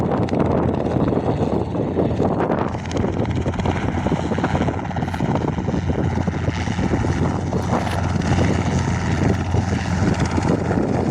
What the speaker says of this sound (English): Off goes the Diamond DA42.